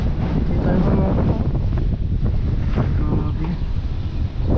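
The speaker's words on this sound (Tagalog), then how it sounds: "Lakas ng hangin, no?" Strong wind ahead of an approaching typhoon buffets the microphone in a loud, continuous roaring rush with gusty swells and no pauses; no clear speech rises above it.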